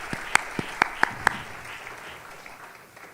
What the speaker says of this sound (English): One more round of applause for these brilliant artists.